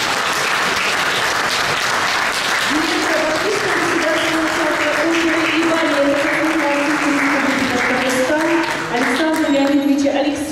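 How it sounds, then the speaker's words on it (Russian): An auditorium audience at a 75th-anniversary jubilee evening applauds with loud, sustained clapping, and a tonal hum or music rises beneath it partway through. "Под ваши аплодисменты."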